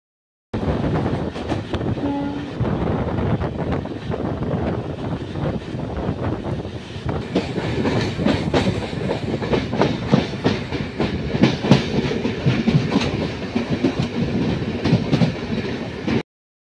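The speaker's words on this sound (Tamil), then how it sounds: "ட்ரெயின் எடுத்துட்டாங்க, போகலாம்." A MEMU express train runs from Chennai Egmore toward Pondicherry, with a steady, loud rumble of wheels and carriages, repeated clickety-clack over the rail joints and rushing wind buffeting the microphone throughout, with no talking.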